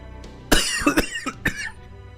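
Several harsh coughs come close to the microphone in a short burst, about four or five hacking bursts with some throat clearing, loud and unaccompanied by talk.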